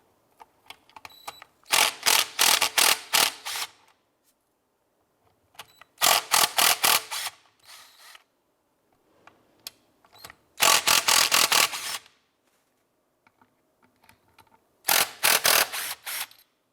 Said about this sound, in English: use our T30 Torx bit to remove the 4 screws holding the throttle body to the intake manifold